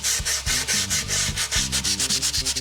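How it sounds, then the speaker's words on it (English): Leftover grip tape rubbed hard along a skateboard's edge, a loud close-up rasping scrape repeating in a steady back-and-forth rhythm with no talking. "I am just sanding around my board with my leftover grip tape to prevent the grip from peeling out when I'm riding"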